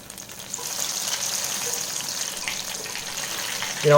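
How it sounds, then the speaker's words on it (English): Zucchini fritters fry in hot oil with a steady, close sizzle that swells slightly toward the end, with no voices. "And I like to fry them about 3 to 4 minutes per side."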